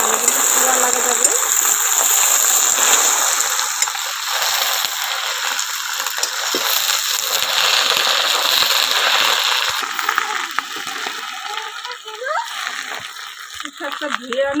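Water is poured into a pan of colocasia leaves, a loud close gush and splash that runs steadily for several seconds before easing into lighter sloshing, while someone talks.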